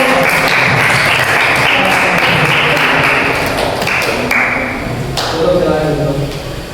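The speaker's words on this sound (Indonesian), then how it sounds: "beri tepuk tangan untuk" Applause from a classroom group after a team presentation on Islamic worship, dense clapping throughout with a few sharp taps and thuds, loud and near.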